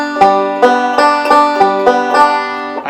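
Banjo picking a Shelton roll pattern that targets chords: bright, ringing plucked notes in a steady rolling rhythm, close and clear, about eight distinct attacks with sustained overlapping tones, no talking.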